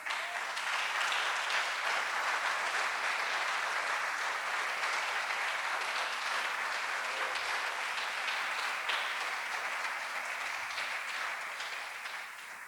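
A church congregation applauds in a long, even wash of clapping that holds steady at moderate volume and fades slightly near the end.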